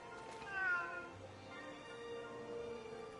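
A cat meows in a video game while the player picks up junk and trades for a sardine, giving a couple of clear, close mewing calls over soft game ambience.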